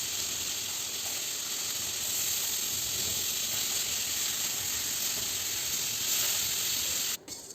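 Tuna pieces frying in a hot pan, a loud steady sizzle and hiss that runs unbroken before dropping off sharply near the end.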